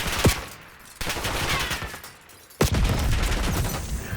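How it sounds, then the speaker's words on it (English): Gunfire in a realistic first-person shooter video game comes as three loud, dense bursts of rapid shots with abrupt onsets, each rattling on for about a second before the next begins. "I'm shooting."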